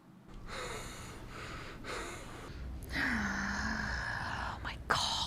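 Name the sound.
labored breathing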